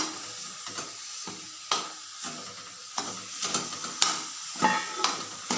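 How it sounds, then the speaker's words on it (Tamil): Thick pumpkin halwa with sugar bubbling and sizzling in a pan while a spoon scrapes and stirs in irregular strokes. "இப்போ நல்லா கொதிக்குது."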